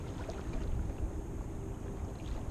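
Steady wind blows across the microphone while a Perception Crank 10 kayak sails on Currituck Sound, a continuous low rushing roar with light water sounds and no talking.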